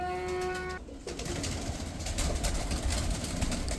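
Salara teddy rain pigeons in a loft, their soft cooing murmuring steadily close by after a brief harmonic tone fades out, with a low rumble running underneath throughout.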